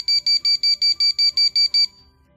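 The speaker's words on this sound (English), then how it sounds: "When the set torque is reached, the signal light will flash and provide an auditory beep" A dial torque wrench signalling that its set torque is reached, ten sharp, evenly spaced electronic beeps in quick succession, loud and close, then silence.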